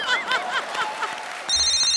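A telephone rings on a comedy stage show, a brief electronic ring bursting in loudly after a moment of speech and audience reaction.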